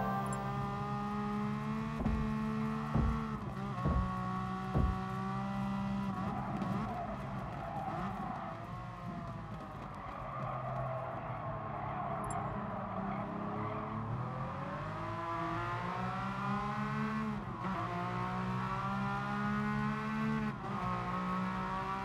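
A race car in Gran Turismo Sport drives continuously with a loud, sustained engine drone that rises and falls through gear changes. Tires skid and squeal throughout, with a few sharp knocks early on, and no talking is heard.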